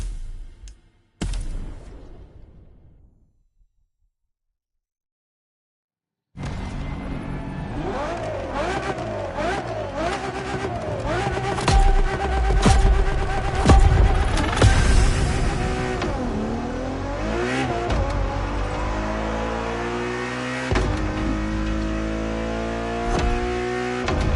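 Ferrari Enzo supercar engine in The Crew Motorfest racing game, starting after a brief quiet gap and then revving loudly with rising and falling pitch sweeps, steady and close, no talking.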